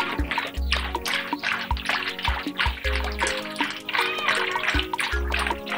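Water poured out in a steady splashing trickle, with some low thumps and a voice talking over the pour.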